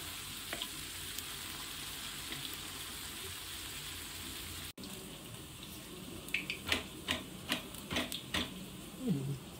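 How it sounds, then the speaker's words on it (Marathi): Chicken vadas dropped into hot oil, a soft continuous sizzle that jumps after a sudden drop into a busier crackling and bubbling of frying dough, with scraping stirs near the end. "आता आपलं तेल तापलेलं आहे, आपण टाकूया वडे."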